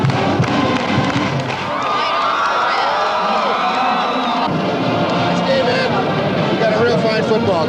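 A homecoming football crowd cheering in a 1986 Penn Quakers stadium win over Yale, a broad roar of shouts and whoops with an announcer's voice talking over it throughout.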